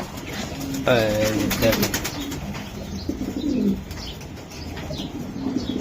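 Racing pigeons coo and flap their wings close by in a loft, with short soft cooing phrases and wing bursts over steady murmur while someone talks throughout.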